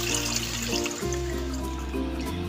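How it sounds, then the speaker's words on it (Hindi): Water is poured into a pot of beef, salt and spices for cooking, a close, steady splashing stream with a brief dip midway before the flow resumes, with no voices. "अब मैं इसमें पानी ऐड कर रही हूँ ताकि गोश भी गल जाए"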